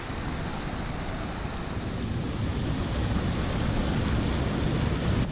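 A small, pretty mountain stream in the Murphys area of old California gold country flows with a steady, broadband rush of water, close and continuous with no talking.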